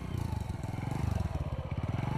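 A motorbike rides up with a rhythmic, pulsing engine putter, fairly close, the chugging idling on steadily as it pulls up and stops; no talk over it.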